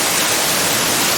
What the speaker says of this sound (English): that's quite a bit of water coming off the roof